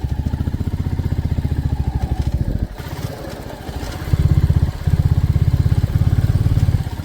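A Royal Enfield Classic 350 motorcycle on a muddy rural road, its single-cylinder engine thumping loud and close with a steady rhythm. It dips and strains briefly midway, then surges again with harder revving.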